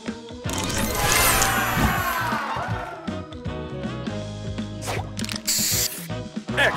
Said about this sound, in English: Booster ready. Spray on.